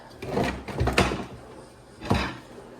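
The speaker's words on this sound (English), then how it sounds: "I'm thinking I could just open the drawer and like put this on top." A drawer in an art workspace slides open with a few soft wooden scrapes and knocks, and one more clunk follows about a second later. The sounds are close and fairly quiet, with no talking over them.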